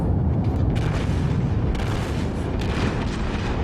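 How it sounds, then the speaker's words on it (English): Heavy battleship guns firing in a naval warfare game, the Wyoming, a continuous dense rumble of booms with overlapping bursts as staggered turrets go off, loud and close with no pauses. "my guns are now staggered, so they're not all firing at the same time"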